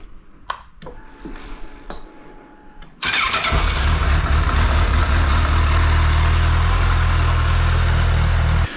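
A Honda CBF 1000 motorcycle engine cranks and fires up after an oil change, then settles into a loud steady idle close by, following a few clicks and clunks.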